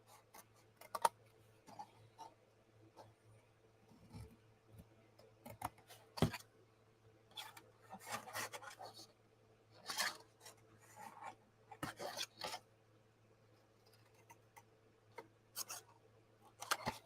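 Scissors cut paper out for making paper flowers. Quiet snips and rustling, scraping paper handling come in irregular bursts over a faint steady background hum.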